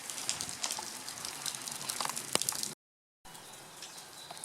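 Rain falls outside a house in France, a steady faint patter of scattered drops ticking on surfaces, broken by a brief gap of silence.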